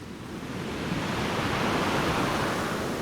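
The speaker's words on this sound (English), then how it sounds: "if you're using the sound of maybe like water crashing or crackling up against rocks" Water crashing against rocks as a sound effect, a dense steady roar of broadband surf-like rushing that holds loud and even for about three seconds before cutting off abruptly.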